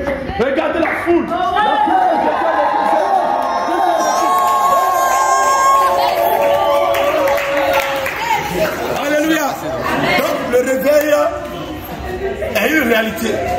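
Church members at the Jesus-Revient church in Yaoundé form a loud crowd, cheering, calling out and clapping in a sustained, lively din of many voices with scattered applause.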